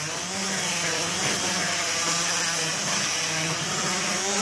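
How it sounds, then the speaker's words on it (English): Handheld grinder cleaning sharp edges around the port of a 31 cubic inch Briggs single-cylinder engine, a loud continuous whirring grind with rubbing variations, steady and close throughout with no talk. "you can basically just get in here and just clean around in here with a grinder"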